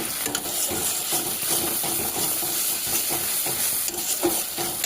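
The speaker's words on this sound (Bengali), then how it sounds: "ভালো করে কষিয়ে নেব" Spice masala fries and is stirred in a pan, a close, steady sizzle broken by repeated scraping strokes of the spoon, with no one talking.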